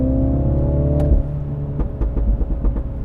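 A Mini Cooper John Cooper Works exhaust roars loudly up close, holding a high revving drone before the revs drop, then crackling and popping in quick bursts on the overrun.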